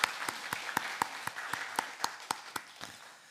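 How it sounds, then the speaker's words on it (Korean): A church congregation claps for its worship team in a steady unison rhythm, about a dozen evenly spaced claps that fade slightly toward the end. "우리 박수로 격려하겠습니다"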